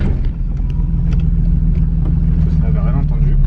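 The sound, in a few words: BMW E30 with M50 engine swap driving for first time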